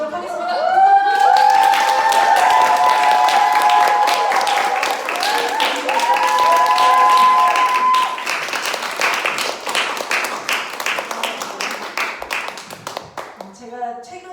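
Loud, sustained applause from an audience at an offline lecture, welcoming a speaker onto the stage, with music and talk over the start, then thinning into scattered claps over about fourteen seconds.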